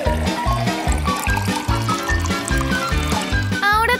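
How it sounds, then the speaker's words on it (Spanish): Raw eggs, milk and cocoa pour into a blender jar in a kitchen, a close wet glugging stream with rhythmic splashing pulses, steady and moderately loud, ending with a brief higher trickle. "Vertemos todos los huevos. Y luego agregamos leche y cocoa."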